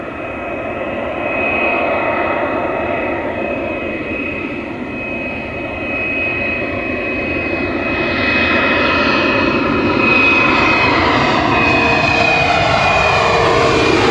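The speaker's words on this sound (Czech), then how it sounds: "Tady se nám blíží letadlo" A fixed-wing airplane near an airport approaches and passes overhead, its engine roar steady and loud, swelling slightly as it nears over about fourteen seconds with no talking.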